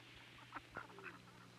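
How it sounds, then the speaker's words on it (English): A few soft duck quacks, faint and somewhat distant, over quiet outdoor background. "On the water, ducks are searching for food"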